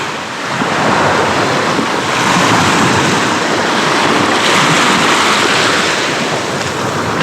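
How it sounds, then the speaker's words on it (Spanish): Steady roar of ocean surf breaking on the beach at El Cuyo, Mexico, a continuous wash of waves with some wind buffeting the microphone, no voices. "una playa realmente espectacular"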